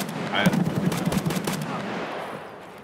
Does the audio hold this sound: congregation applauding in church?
no